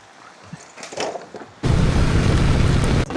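Rain falling during a hillside motorbike trip, starting abruptly as a loud, steady broadband hiss about halfway through, with quieter indistinct noise before it.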